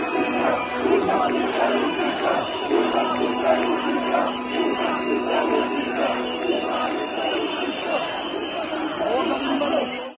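A large crowd of protesters is massed outside the Serbian Parliament during demonstrations over renewed coronavirus restrictions. The crowd gives off a steady, dense roar of voices and chanting that holds for the whole stretch with no break.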